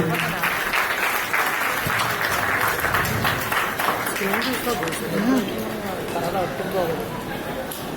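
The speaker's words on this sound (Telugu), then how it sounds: "అందరూ చప్పట్లు కొడుతూ" A wedding audience claps steadily throughout, a dense continuous round of applause from a large crowd, with voices mixed in underneath.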